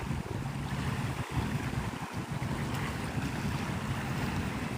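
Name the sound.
water of Santa Rosa Sound, Navarre, Florida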